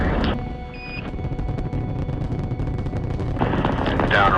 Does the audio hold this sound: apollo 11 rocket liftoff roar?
yes